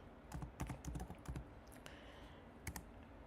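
Typing on a computer keyboard, quiet clusters of quick key clicks in a short burst, then a pause and a couple of final taps, close and faint.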